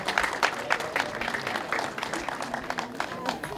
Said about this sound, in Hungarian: Köszönjük szépen a tapsot az ő nevükben is.